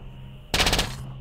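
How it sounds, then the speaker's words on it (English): Rapid burst of machine gun fire in the Stellar Tactics video game, a loud dense volley lasting about half a second before cutting off, with no talk over it. "Oh wow, a machine gun."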